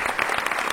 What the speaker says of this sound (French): Qui par applaudissement est parent ce soir?